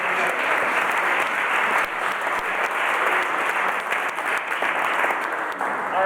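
An audience at a Democratic Party regional Hall of Fame event in Iowa applauds steadily, a dense and continuous clapping that fills the room throughout.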